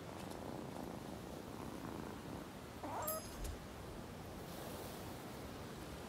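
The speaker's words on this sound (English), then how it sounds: "I am gonna grab this cat, though." A cat purring in the video game Rise of the Ronin: a soft, steady, low rumble that runs unbroken, quiet and alone, with a brief faint chime partway through.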